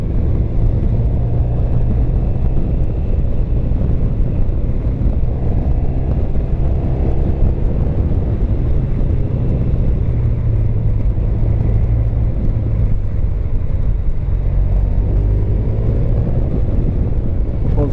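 A car drives along a road toward Dannenberg, with a steady engine drone and tyre rumble that stays loud and even throughout, heard from inside the cabin.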